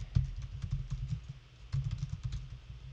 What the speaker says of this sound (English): I'm just typing in the chat right